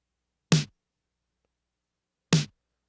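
Dry LinnDrum snare sample with no reverb, struck twice about two seconds apart; each hit is a brief, punchy crack that cuts off almost at once, isolated against silence.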